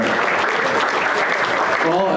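An audience at a state fair FFA livestock show gives the champion exhibitors a sustained round of applause, a dense crowd clapping at steady volume throughout with faint talk mixed in near the end.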